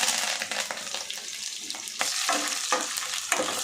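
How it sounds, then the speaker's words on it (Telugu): Cumin, mustard seeds, dried and green chillies and curry leaves sizzle loudly in hot oil for a tamarind pulihora tempering. A spoon scrapes and stirs through the pan in repeated sharp strokes, with no talking. "పోపు మంచిగా కలుపుకోవాలండి."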